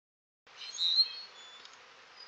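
Young honey bees in a wooden cell starter box, set up for queen rearing, make a soft, steady buzz that rises briefly and then settles into a faint, even hum.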